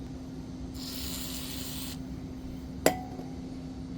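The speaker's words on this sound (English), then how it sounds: "Spray a little bit of WD-40 right down the center on the top of the bolt" A short spray of WD-40 onto the top of a bolt hisses for about a second, followed by a quiet pause and then a single sharp metallic clink.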